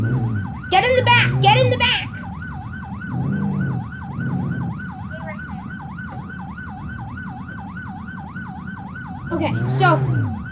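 Ambulance siren in the Roblox game Jailbreak wails steadily and continuously throughout at moderate loudness, with a voice talking over it near the start and again at the end.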